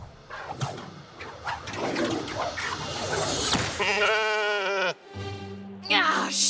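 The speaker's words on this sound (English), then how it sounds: "Ah, sheep." Sheep bleating in a few drawn-out, wavering calls that rise out of a busy background with some voices, loud and fairly close.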